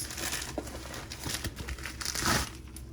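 Cardboard box slid out of a plastic mailer package: soft crinkling and rustling of the wrapper with a few light scrapes, close and fairly quiet, no talk.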